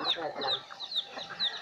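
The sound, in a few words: chickens clucking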